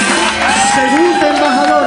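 A crowd at a Vela Muxe ambassadors' entrance in Oaxaca cheers and shouts for an ambassador from Salina Cruz, a loud, continuous mass of voices and whoops.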